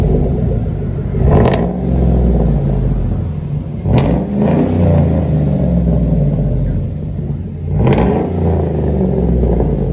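Big 6.0L V8 in a 2007 Chevy Silverado 2500 with a Flowmaster Flow FX exhaust rumbles loudly up close, idling deep with three sharp revs that swell and fall back.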